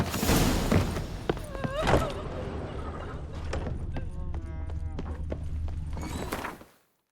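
Roach, a horse in The Witcher 3, runs with quick rhythmic hoof clops over steady ambient noise and a low rumble, mixed with scattered thuds, pitched sounds and a voice before everything cuts to silence.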